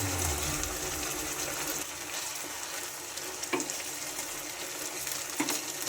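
Water rinsed from a mixer jar is poured into chicken cooking in yogurt without oil, setting off a steady close sizzle and bubbling hiss, with a few light clinks of utensils near the end.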